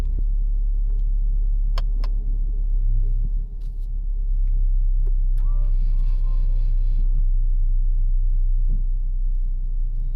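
A Honda HR-V SE 2018 with a 1.5 i-VTEC engine hums steadily while driving. The low, continuous engine and road rumble comes from inside the cabin, with a brief dip near the middle and a few light clicks and chimes.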